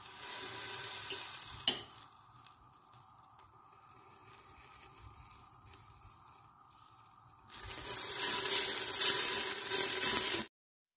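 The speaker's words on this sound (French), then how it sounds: "Je vais mettre un morceau de beurre dans le fond de ma cocotte pour faire revenir mes oignons" Butter sizzles in the bottom of a pressure cooker before onions are fried, a soft steady hiss after a sharp knock, swelling into a loud, bright crackling fry for the last few seconds.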